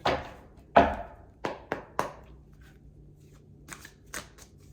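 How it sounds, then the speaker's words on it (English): A tarot deck being shuffled: a few quick riffles and snaps close up, followed by softer taps, with no voices. "let me just shuffle real quick"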